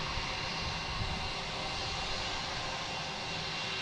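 A Boeing 747 taxis out at Boston Logan airport, its jet engines making a steady broad rumbling roar that stays constant and fairly distant throughout, with no talking.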